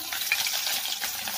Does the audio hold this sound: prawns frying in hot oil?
yes